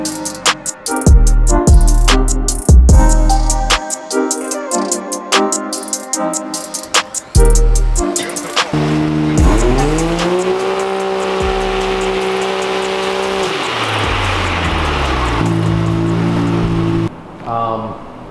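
A 2022 Can-Am engine fitted with a Q exhaust and no catalytic converter, loud and close, sweeping through repeated sharp revs, then holding a long steady drone before dropping off.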